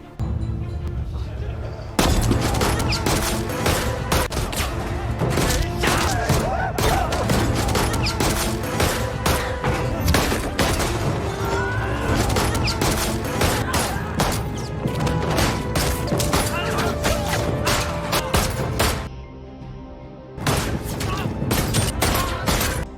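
A film scene fills with repeated gunfire, dense rapid shots cracking one after another for about twenty seconds, with a short lull before the firing resumes.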